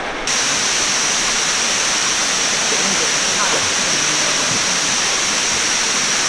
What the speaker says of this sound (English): we made it to the very top of the waterfall.